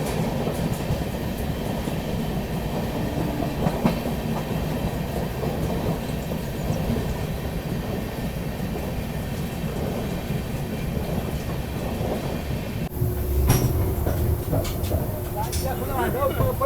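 Kaifiyaat Express on the Delhi to Azamgarh run, heard from aboard as a steady rumble of wheels on track with rhythmic clatter, continuous and close, with a brief louder stretch near the end.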